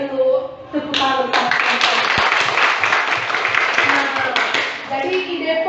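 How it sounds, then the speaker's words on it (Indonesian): Classroom applause for a student group's correct answer, a loud wash of many hands clapping together that swells after a voice and fades back toward talk near the end. "Kita berikan dulu tepuk tangan."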